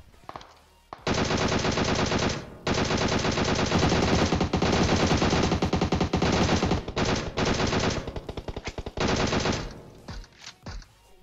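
Sustained bursts of rapid automatic gunfire in PUBG Mobile, loud and close, with brief pauses between volleys and a ragged stutter of shots near the end.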